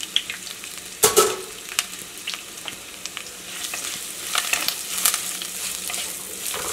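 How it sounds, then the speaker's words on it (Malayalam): Green chillies and curry leaves sautéing in a pan for a coconut-free fish curry, a steady light sizzle with a sharp clatter of stirring near the start and scattered crackles and pops, no voices. "ഇതെല്ലാം കൂടിയിട്ട് നന്നായിട്ടൊന്ന് വഴറ്റിയിട്ട് എടുക്കുക"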